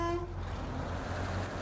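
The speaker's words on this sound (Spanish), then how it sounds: "La bocina." Horn of the Z2 MAX KAT 10x10 truck in SnowRunner, a brief tonal honk at the start fading into a steady low engine rumble, fairly loud and close with no voices.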